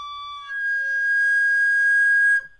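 A single high, shrill recorder note, held for about two seconds with a thin, piercing whistle-like quality before cutting off abruptly.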